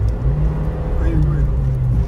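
A Suzuki Jimny is driven on a road in Delhi, its engine a steady loud drone under road and wind noise while someone talks over it.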